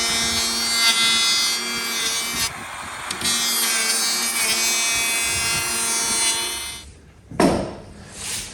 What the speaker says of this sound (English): planing that section